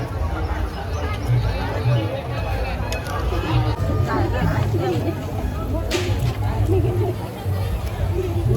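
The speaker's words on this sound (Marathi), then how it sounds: "काय बापरे, एवढी गर्दी आहे इकडे." A dense crowd at a Mahashivratri village jatra fair fills the air with constant overlapping chatter and hubbub, steady and close throughout.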